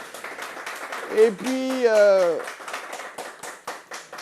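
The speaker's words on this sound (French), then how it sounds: "On peut l'applaudir, s'il vous plaît." Studio audience clapping for a guest joining a French talk-show panel, a patter of hands heard under a speaking voice, with the host's speech dominating in the middle.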